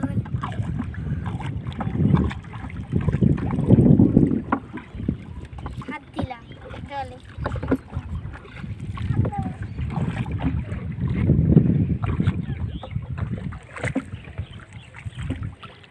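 Waves lap and slosh on the water of a baor, an oxbow lake, in a steady rolling wash with gusts of wind noise and swells that come and go, and voices murmur faintly underneath.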